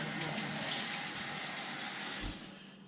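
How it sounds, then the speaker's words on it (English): Water runs steadily from a kitchen tap while fruit is rinsed, a close, even rushing flow that eases off near the end. "Anyway, like I said, I rinse off anything."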